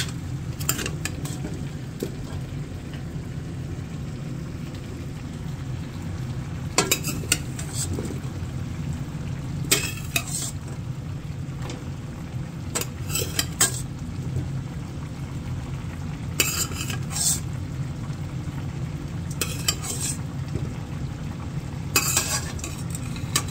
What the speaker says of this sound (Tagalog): Haluin pala muna natin bago natin siya takpan.